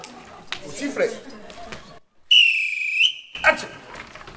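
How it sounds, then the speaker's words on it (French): A sharp, high whistle blast rings out for about a second after a stretch of chatter, with a short second toot following. "Sifflet."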